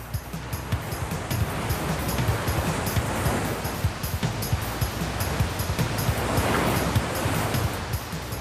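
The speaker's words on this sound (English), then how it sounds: "As the water roars around the huge boulders and bends in the river, it creates treacherous whirlpools." Roaring river rapids crashing around huge boulders at bends in a jungle river fed from the highlands, a steady, dense rush of turbulent water that stays loud and close throughout with no voices.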